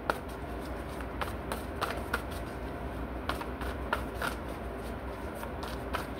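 Tarot cards are shuffled by hand in repeated quick riffling bursts and soft slaps, close and fairly quiet, with a low background hum throughout.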